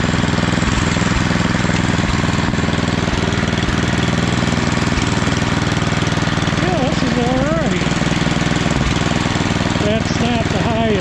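Estate-sale snowblower engine running in high gear at fairly low RPM, a loud, steady mechanical drone with knocking throughout, while someone speaks briefly over it near the end.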